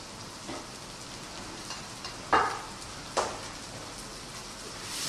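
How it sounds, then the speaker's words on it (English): Onions, garlic, ginger and haldi powder fry in a pan with a soft, even sizzle, broken by a few louder stirring scrapes and clatters, close and without voices. "let that powder fry out with the onions, the garlic and the ginger"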